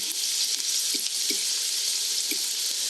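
Pinto beans frying in hot grease, a loud, steady hiss of sizzling oil close up, with a few soft bumps from stirring, no talk.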